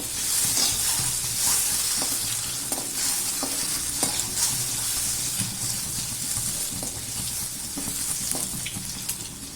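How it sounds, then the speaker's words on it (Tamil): Eggs fry in masala in a pan, a steady close sizzle that runs without a break, with light scrapes and occasional clicks of stirring. "முட்டையை போட்டு நம்ம ஃப்ரை பண்ணி எடுத்துக்கலாம்"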